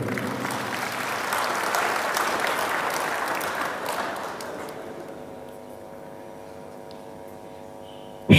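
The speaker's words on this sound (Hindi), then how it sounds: "एक बार ज़ोरदार तालियां अपने लिए ज़रूर बजा दीजिए" An audience at a mushaira poetry gathering in Muscat, Oman claps enthusiastically for about four seconds, then the applause thins and fades out, leaving a low hum.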